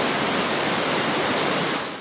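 Truckee River water rushing through the south channel near Wingfield Park in Reno, a steady, loud broadband roar that holds constant and fades slightly at the end, with no voices.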